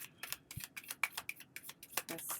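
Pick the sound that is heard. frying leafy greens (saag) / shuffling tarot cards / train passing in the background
shuffling tarot cards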